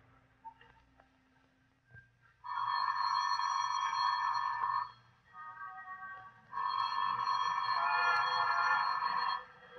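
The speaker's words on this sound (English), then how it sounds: "Phone's ringing, Johnny." An old-style telephone rings in two long bursts, a steady buzzing bell that starts after a quiet stretch, pauses briefly, then rings again, fairly close and clear with no talking over it.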